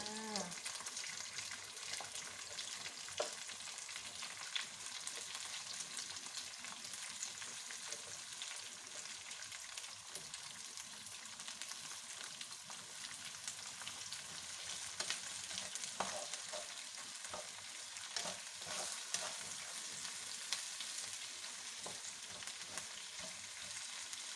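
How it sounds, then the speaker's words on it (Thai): Vegetables stir-fried in a pan for a glass-noodle dish give a faint but constant sizzle, with occasional stirring scrapes and soft pops. "ผัดผักลงไปเลยจ้า"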